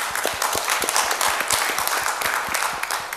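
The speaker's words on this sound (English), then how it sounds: "let's just lift that up together in a round of applause" A congregation at a Sunday service applauds, steady scattered clapping from many hands filling the room for a few seconds.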